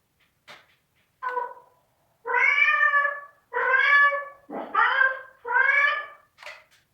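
A domestic cat meows repeatedly at close range: about half a dozen loud, drawn-out meows with short pauses between them, clear and alone without any talking.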